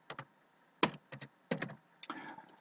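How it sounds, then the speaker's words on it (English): Typing on a computer keyboard: several short clusters of crisp key clicks with gaps between them, close and alone. "press return, and type in this is a title"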